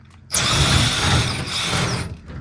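Power socket tool whirs while unbolting a camper shell from an old Chevy pickup truck, one sustained close mechanical buzz of about two seconds that starts suddenly and stops.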